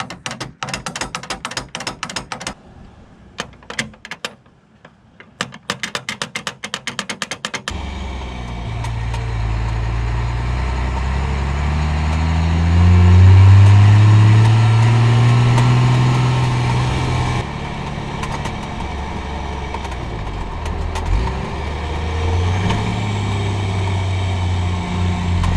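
A slowly driving 1st gen Cummins truck rattles as its tailgate straps sway: sharp, rapid clatter at first, then a loud low diesel engine drone that rises and falls as the truck rolls along.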